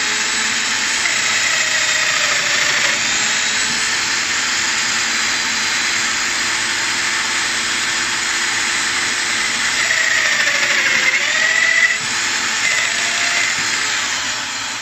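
A Festool Domino XL DF joiner whines steadily and loudly for several seconds as it cuts a mortise into wood, with slight changes in pitch as the load shifts.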